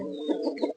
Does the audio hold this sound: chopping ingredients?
no